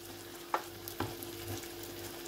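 Pepper paste sauce is stirred in a pan, giving a few faint scraping knocks of a utensil over a quiet, low sizzle, with no talking.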